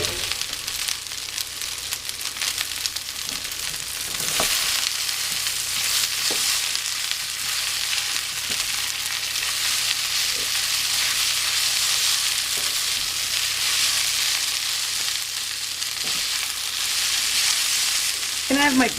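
Rice noodles frying and being stirred in a pot for pad thai, a steady loud sizzle with scraping stir strokes throughout, no voices.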